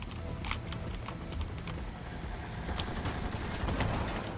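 Gunfire in Cleared Hot comes as a faint, distant crackle of rapid shots mixed into a rumbling battle background, with scattered bursts throughout.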